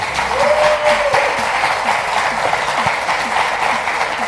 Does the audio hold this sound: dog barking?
no